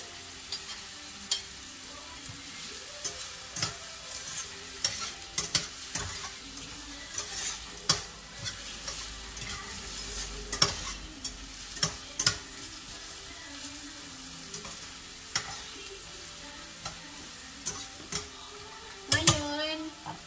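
Garlic and ginger sauté in a pan for turkey adobo, a soft continuous sizzle broken by frequent scraping stirs and utensil knocks against the pan.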